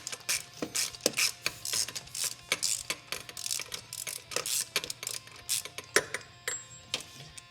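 Rapid clicking of a ratchet wrench fitted with a 27 mm socket, loosening a bolt during a Perrin air-oil separator and oil cooler install on a car engine; close, loud bursts of ratcheting in uneven strokes with brief pauses, no talking.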